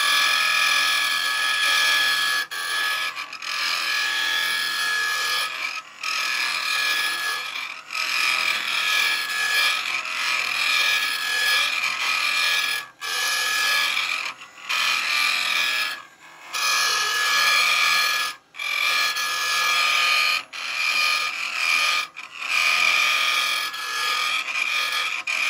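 Woodturning hollowing tool scraping inside a wooden baby rattle spinning on a lathe, a loud, continuous rasping hiss broken by several short pauses as the tool lifts away.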